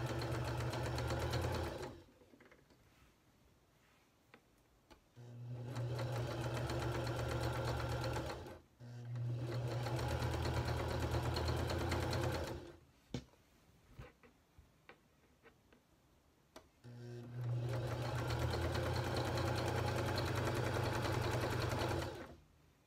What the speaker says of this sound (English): Second step is this, which is the sewing part.